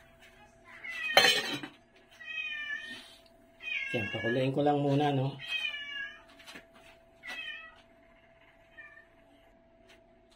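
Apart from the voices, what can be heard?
cat meowing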